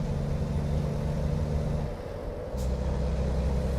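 A heavy truck engine in a truck driving simulator game idles and rumbles, dips briefly as it comes to a stop with a short hiss of air brakes, then keeps running.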